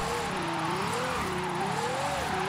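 A raspy, very loud Ferrari engine in Forza Horizon 5 held flat out, a continuous shouty roar wavering slightly in pitch throughout.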